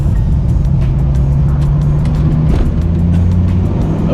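A 1994 Dodge Viper's engine drones steadily and loud through the whole stretch, a deep low rumble holding strong as it accelerates on a wet road in the rain.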